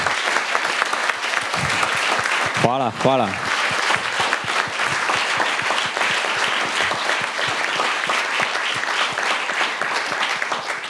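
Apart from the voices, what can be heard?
audience applause at a film premiere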